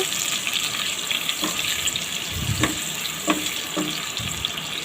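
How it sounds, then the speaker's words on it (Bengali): Chopped onion browning in half a cup of cooking oil for a Bangladeshi beef head curry with chana dal, a steady close sizzling hiss broken by a few soft clicks from stirring. "পেঁয়াজটাকে হালকা নাড়াচাড়া করে বাদামি কালার করে নিচ্ছি"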